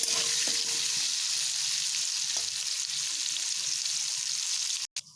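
Potatoes fry in oil with turmeric and salt, giving a loud, continuous hissing sizzle with a few faint knocks, cut off abruptly near the end.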